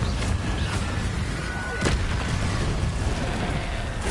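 A Confringo fire spell in Hogwarts Legacy goes off as a dense, continuous blasting roar with a sharp burst in the middle, loud and close throughout.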